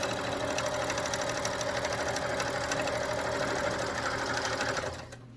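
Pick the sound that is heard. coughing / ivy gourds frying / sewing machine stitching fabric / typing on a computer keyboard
sewing machine stitching fabric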